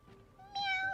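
A house cat gives a single close meow, rising and then falling, after a moment of quiet.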